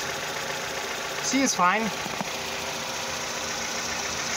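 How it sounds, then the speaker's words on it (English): Car engine idling steadily during a catalytic converter cleaning, a low continuous rumble with a brief voice speaking over it near the start. "Okay, engine is running"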